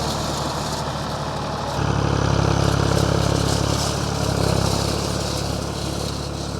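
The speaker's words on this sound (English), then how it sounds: "You can see the tractor's just charging along really quickly." A tractor drives quickly along rows of hay on a traditional farm in Portugal, its engine a steady, close drone that swells louder partway through and stays prominent, with no talk.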